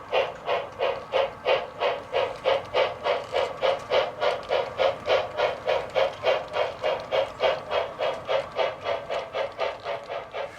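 A small HO scale model train rolls steadily along the track of a Western Pacific layout, its wheels clicking in an even, rapid rhythm with no voices over it.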